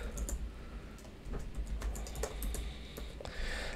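Someone types an email address on a computer keyboard, a short run of light, irregular key clicks, quiet and close, with no other sound.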